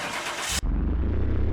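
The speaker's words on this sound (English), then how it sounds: "it did take a little bit to kind of get it started, so that kind of lets me know the bottom end in this engine is kind of worn" A turbocharged Honda Civic with a worn bottom end is cranked over, then its engine catches and settles into a loud, rough, steady idle close by, with no talking.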